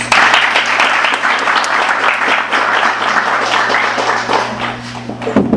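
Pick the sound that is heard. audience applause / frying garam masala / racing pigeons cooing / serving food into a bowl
audience applause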